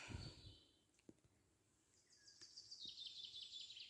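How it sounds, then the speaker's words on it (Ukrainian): Birds chirp and sing faintly in a forest clearing, with high thin calls rising toward the end of the stretch and a few soft clicks, no voices present. "Ой, пташки співають,"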